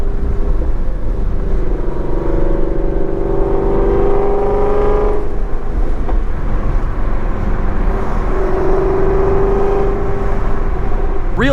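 Ford Shelby GT350 engine held at 3,000 RPM on a cold day, a steady loud droning rumble with a slight rise and fall in pitch, heard close with no talk.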